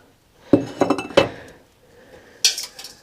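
Glass parts clinking and rattling while a Tilley FL6 paraffin lamp is taken apart, two clusters of bright clinks close by, then a sharper chink a moment later, with no talk over it.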